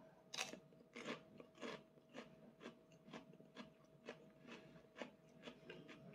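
Crisp, close crunching bites into a freshly picked cucumber, about a dozen irregular crunches and chews spaced roughly half a second apart, quiet and without talk.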